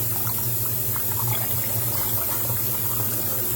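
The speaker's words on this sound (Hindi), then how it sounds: "पानी डाल दिया।" Water is poured into a container of soaking food during home cooking, making a steady, continuous splashing rush throughout with no talk.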